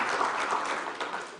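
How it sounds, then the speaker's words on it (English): Conference audience applauding speakers at a forum, a dense steady wash of many hands clapping at moderate loudness, continuous for the whole stretch with no voices standing out. "give another round of applause for them"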